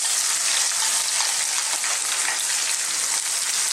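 Onions hit hot oil for an Indian fish fry masala and sizzle loudly, a dense, steady crackling hiss that continues without talk.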